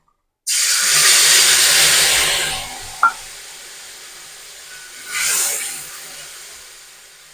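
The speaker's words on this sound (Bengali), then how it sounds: "শুকনো লঙ্কাটা একটু ফাটিয়ে দিয়ে দিয়েছি এগুলোকে একটু ভেজে নেব" Dried red chillies fry in hot oil before a mustard and poppy seed paste goes into the pan. A sudden loud sizzling hiss bursts out and fades, then a second, shorter hiss flares up.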